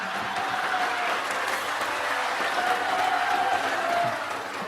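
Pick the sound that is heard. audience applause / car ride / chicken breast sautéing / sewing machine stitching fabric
audience applause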